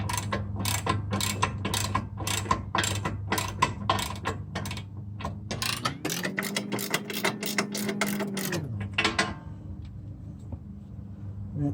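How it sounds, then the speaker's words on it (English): A manual Craftsman ratchet turns a bolt on an Infiniti Q50 subframe bushing collar install, making rapid, loud, close clicking in steady bursts. A mechanical whir rises midway under the clicks before they fade out. "I'm going to grab my ratchet to speed this process up"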